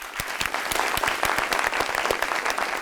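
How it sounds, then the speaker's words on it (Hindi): Studio audience on a Pakistani TV talk show claps in a short, loud burst of applause, with sharp individual claps audible through the steady clatter. "उनके लिए तालियां।"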